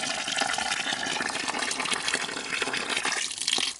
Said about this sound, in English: Well water right here.